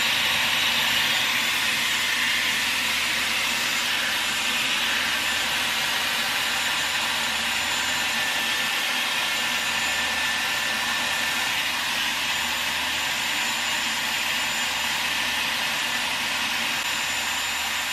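A Dyson Airwrap hair styler blows air while curling a section of hair, giving a loud, steady, close hiss that runs unbroken from start to finish.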